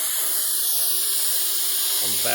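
An air-and-water spray nozzle fed by an air line and fluid line gives a loud, steady hiss that continues unbroken, joined by a low rumble near the end.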